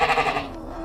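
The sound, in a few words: goat bleating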